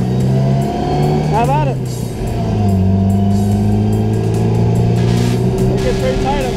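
A Datsun roadster drives a winding mountain highway, its engine droning up close with a few revs and gear changes rising and falling throughout while someone speaks briefly.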